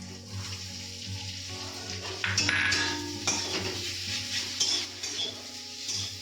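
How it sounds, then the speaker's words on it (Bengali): Dates and raisins stirred and fried in ghee over a low flame: a soft continuous sizzle under clinking, scraping spoon strokes against the pan, close and steady. "লো ফ্লেমে খেজুর আর কিশমিশটাকে 5 মিনিটের মতন ভেজে"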